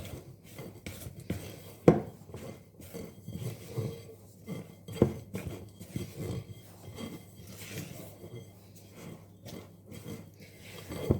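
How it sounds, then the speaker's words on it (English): Chopped walnuts are stirred into thick chocolate brownie batter in a bowl, giving a run of soft, close scraping and thudding strokes with occasional sharp clinks of the spoon against the bowl rim. "And now I'm just going to add my 2 ounces of chopped walnuts. And stir that in."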